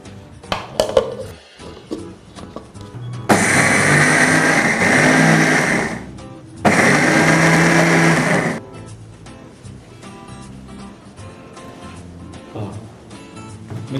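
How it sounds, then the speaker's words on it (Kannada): Kitchen mixer grinder grinding masala, two loud whirring bursts of a few seconds each separated by a short pause, with quiet talk and clatter before and after. "ಮಿಕ್ಸಿಯಲ್ಲಿ"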